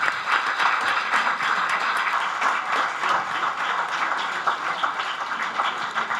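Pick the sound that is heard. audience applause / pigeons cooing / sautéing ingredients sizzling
audience applause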